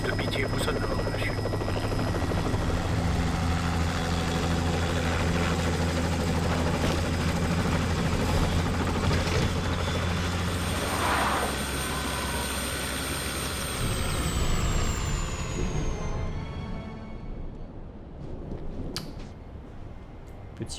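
Helicopter in the Batman Begins video game lifting off, a loud steady rotor roar and whine holding for most of the span, rising in pitch as it climbs, then fading away near the end.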